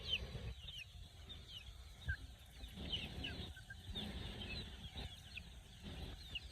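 Growing chicks and chickens cluck and chirp in a roomy rearing area, steady faint calls scattered throughout against low background noise.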